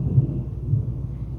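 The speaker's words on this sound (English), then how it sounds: "I don't know if you can hear the storm in the background" Low, distant thunder from a storm rolls in soft, deep rumbles with a couple of slightly stronger swells, with no other sounds over it.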